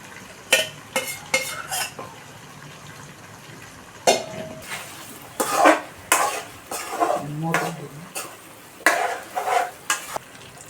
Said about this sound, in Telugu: బంగాళదుంపలు, పచ్చిమిర్చి అనేవి కూడా వేసేసుకున్నాను